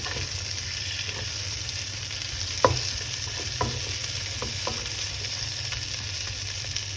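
Vegetables and prawns stir-fry in a hot pan, a steady hiss of sizzling under scattered scraping stir clicks, one sharper knock near the middle, no talking.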